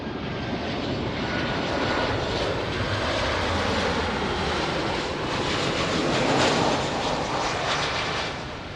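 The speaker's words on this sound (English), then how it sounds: "Nice Ryanair landing." A Ryanair airliner lands at Lisbon airport, its engines producing a loud, steady roar that swells slightly and then fades toward the end, heard alone without voices.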